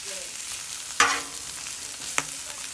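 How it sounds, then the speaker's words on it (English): Kale and walnuts toasting in a pan, a close steady sizzle broken by two sharp stirring scrapes. "just let that cook a little bit longer with those walnuts on there"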